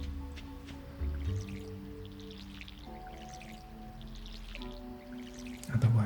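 Splashing water from a watering can onto planted seeds in the farming game Stardew Valley, a short soft watery drip and squish over a steady background tune, repeated near the end.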